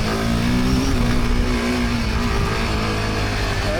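Royal Enfield Himalayan 450 motorcycle engine held under throttle on an uphill climb, a loud steady drone with a sustained rising tone, continuous and close throughout.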